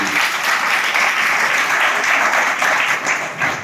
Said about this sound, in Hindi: एक्सीलेंट, ताली बजा दीजिए।